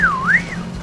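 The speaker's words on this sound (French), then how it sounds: "J'ai entendu, on m'a sifflé." A single spectator's whistle rings out in a SEGA Rally race, a bright gliding tone that dips then rises and fades within a second, clear over a low steady engine hum.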